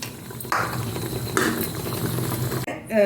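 A close, busy bubbling and sizzling of mutton kurma curry simmering in a pot, continuous and fairly loud, with a brief clatter near the end.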